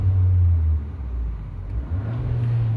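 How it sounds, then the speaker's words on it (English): A car engine revved during an O2 sensor test in a workshop: a deep rev swells, drops back toward idle, then climbs again, heard close and alone with a low rumbling tone. "if I rev the car now"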